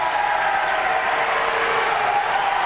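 Basketball crowd, coaches and bench clapping steadily at a girls high school regional game, a dense continuous wash of applause with a faint murmur of voices.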